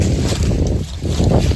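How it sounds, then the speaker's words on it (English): Strong wind buffets the microphone in a continuous rumbling roar, gusting slightly louder and softer throughout. "It's unfortunately just too windy to want to do anything."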